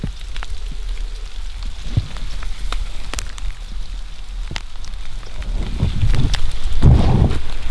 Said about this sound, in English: Temperature dropped, wind picked up, and then ice pellets.